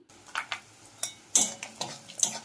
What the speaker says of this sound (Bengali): এবার আমি ভেজে নেব বড়ি